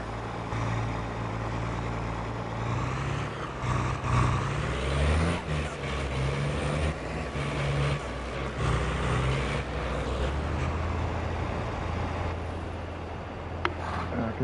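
Truck engine in Farming Simulator 22 on PS5, a steady low idling rumble that runs evenly throughout, with faint talk now and then.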